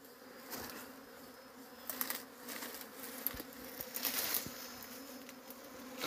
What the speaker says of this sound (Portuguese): As abelhas tá querendo invadir aqui o balde